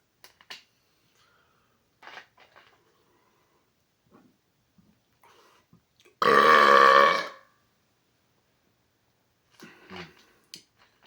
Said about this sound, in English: These burps are not so focused on volume, it's just focused on quality.